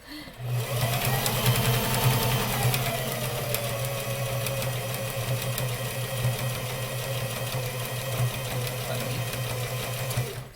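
Sewing machine stitching fabric, a fast steady mechanical whirr with rapid needle clatter running continuously and close for about ten seconds, with no talking over it.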